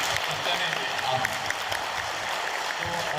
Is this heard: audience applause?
yes